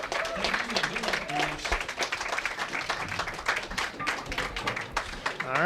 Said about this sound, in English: how about a great round of applause for our competitors?